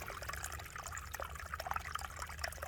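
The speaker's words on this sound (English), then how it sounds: "Water comes in here, does not go down the trail, instead goes off and creates this nice little babbling brook" Water trickles and babbles in a small brook diverted off a mountain bike trail, a faint, continuous gurgle with tiny splashes and no voices.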